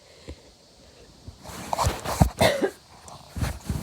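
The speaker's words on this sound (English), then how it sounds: "I'm sorry, I coughed." A person coughs in a few rough bursts in the middle and again near the end, close and fairly loud after a quiet start.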